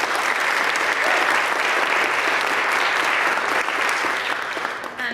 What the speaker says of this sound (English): Can you give her a round of applause ahead of time?